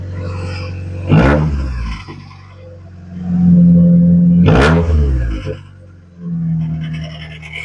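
A Honda Accord CB7 engine with a Flashark exhaust and no muffler revs hard twice, each burst rising to a raw roar before dropping back to a rough, uneven idle.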